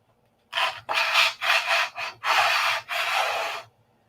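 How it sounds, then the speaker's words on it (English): A DA sander flattening the surface of a P-47 aircraft model, heard as five short bursts of close, dry rasping separated by brief pauses. "so let's sand this flat"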